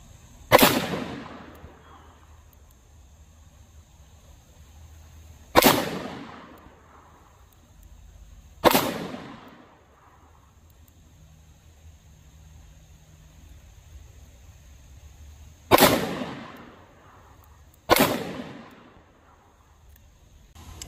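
Five sharp .38 Special standard-pressure revolver shots crack out at uneven intervals during range testing, each loud and close with a short fading tail, separated by quiet pauses.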